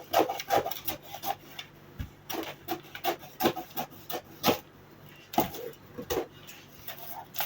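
Scissors cutting fabric darts off a sewn blouse, a steady series of rough, rasping snips and rubbing sounds at close range with no talking.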